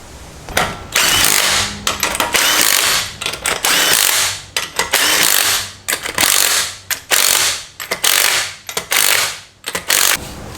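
An impact or ratchet tool tightens lug nuts while a wheel goes back onto a Ford Escape, loud repeated mechanical bursts of whirring and clicking separated by short pauses, close up and without speech.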